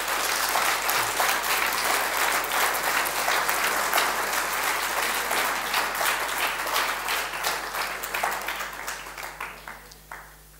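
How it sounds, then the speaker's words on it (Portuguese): A church congregation applauds loudly and steadily in a dense wash of clapping that gradually thins and fades out toward the end. "Podes dar um aplauso a Cristo para ver se a coisa"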